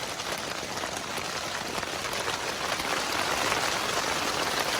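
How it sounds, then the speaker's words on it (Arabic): Rain pours down in a steady, dense hiss that fills the whole stretch without a break, close and fairly loud, with no voices. "يلا باغتنا المطر والله"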